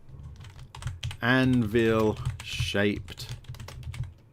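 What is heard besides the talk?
typing on a computer keyboard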